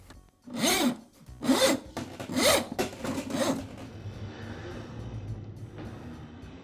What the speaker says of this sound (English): I'll begin by pulling the old cable completely out of the drum